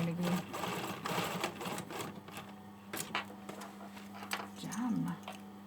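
A sewing machine runs in steady bursts, top stitching the neck edge of a hoodie alongside an existing row of stitches. The motor hum is close and continuous, with brief pauses and a slight change in pitch near the end.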